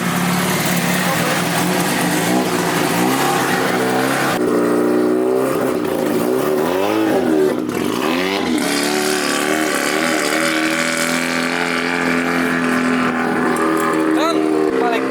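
A rotary-engined Nissan S15 drift car with a DCT gearbox pulls away for the first time, its engine revving rough and loud nearby, rising and falling in uneven surges while people talk around it.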